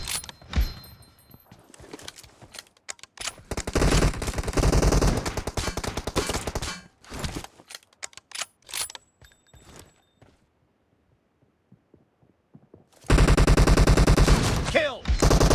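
Video game gunfire, with bursts of automatic rifle fire and single shots in rapid clusters, then a quiet gap before another loud, dense burst, with game effects around it.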